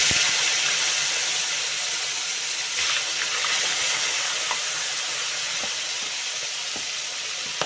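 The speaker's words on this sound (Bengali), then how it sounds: "কড়াই তেল আমার গরম হয়ে গেছে চলো মাছগুলো ভেজে নিচ্ছি" Tilapia fish frying in hot oil in a wok, a steady hissing sizzle at moderate level with scattered small pops and crackles, with no talking.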